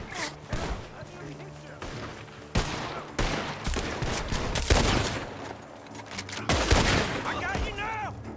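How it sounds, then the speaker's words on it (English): Gunfire from a barn in Red Dead Redemption 2, with repeated sharp shots and bursts over a busy game mix of effects and music, loud and close, with voices heard through it. "Shots are coming from that barn."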